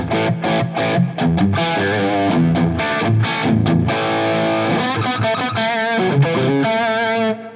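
A heavily distorted electric guitar through a Friedman Gold 72 wah pedal plays loud, gritty chords and riffs with sustained crunchy tone, steady and close, with no voices.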